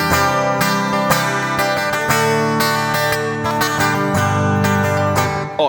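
A Gibson SG Standard played through a Helix acoustic simulator with studio compressor, graphic EQ and dynamic plate reverb, strummed chords ringing steadily and loudly for several seconds with no talking.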